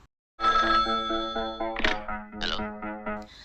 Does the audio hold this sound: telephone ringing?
yes